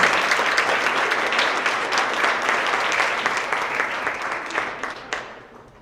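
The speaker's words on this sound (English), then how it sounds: "one last round of applause for our PE winners and all of our second winners" A school award assembly audience for grades 6 to 8 gives a round of applause for the winners, dense steady clapping from many hands that gradually fades out over several seconds.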